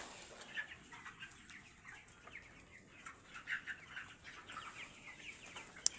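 Broiler chickens in a poultry farm give soft scattered clucks and murmurs, faint and low overall, with one sharp click near the end.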